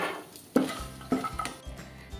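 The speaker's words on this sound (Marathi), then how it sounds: "त्याच पॅनमध्ये मी ज्या मनुका घेतल्या त्यासुद्धा थोड्याशा परतवून घेते" Raisins are sautéed in ghee in a pan, with a spoon scraping and clinking against the metal in a few distinct strokes over a soft sizzle.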